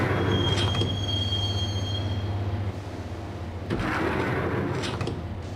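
Train ride in the Max Payne video game: a steady rumbling carriage with a sustained high wheel squeal early on, then a brief drop and the rolling clatter resuming, loud and close throughout, no talk.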